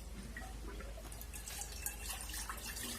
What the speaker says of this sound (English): I'm going to rinse this pan